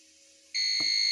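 A 2021 Matrica Deli incubator's alarm switches on with an abrupt, loud, steady high-pitched electronic tone that holds to the end, preceded by a faint hum and crossed by one brief click.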